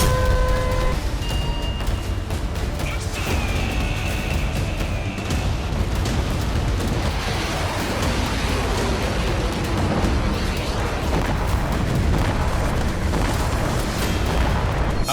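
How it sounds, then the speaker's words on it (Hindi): Loud, continuous rumbling blasts and booms of North Korean artillery fire roll together into a dense wall of noise with no clear gaps between them. "इस बार किम ने अपनी आर्टिलरी की ताकत को परखा है।"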